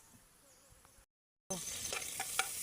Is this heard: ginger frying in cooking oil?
yes